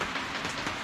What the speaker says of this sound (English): it's raining outside today